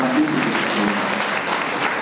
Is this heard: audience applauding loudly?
yes